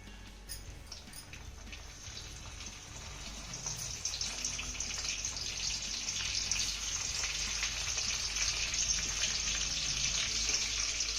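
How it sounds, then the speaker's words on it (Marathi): Tomatoes sizzle in hot tempering (phodni) in a pan, giving a steady, bright frying hiss that holds throughout and grows slightly louder, close and continuous with no talking. "फोडणी आपली चांगली परतून झाली की अशा पद्धतीने टोमॅटो आपल्याला यामध्ये ठेवून घ्यायचे आहेत"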